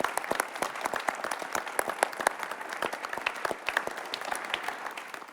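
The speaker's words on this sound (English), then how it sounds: "if you could just stand up and a quick round of applause" A quick round of applause from a conference audience honoring task force members, dense, steady clapping from many hands that fills the room and continues evenly throughout.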